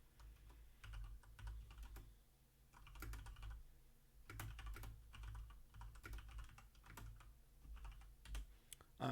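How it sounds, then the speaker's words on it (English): Quiet computer keyboard typing: scattered soft key clicks in short irregular bursts, close but low in level, with no speech. "I apologize for you having to hear the sounds of me typing just there."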